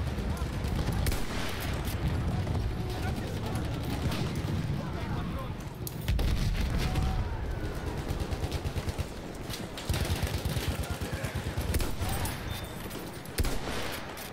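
Dense gunfire crackles all around a Battlefield 1 battle on the Lupkow Pass map, with heavy rumbling and sharp bursts layered under someone talking.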